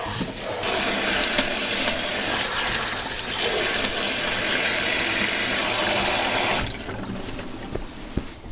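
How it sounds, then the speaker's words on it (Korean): Running water splashes into a bowl where bomdong spring cabbage sits to soak off soil, a steady close rush that drops to a quieter trickle for the last couple of seconds. "흙 떨어지라고 물에 잠깐 담가 놓을게요"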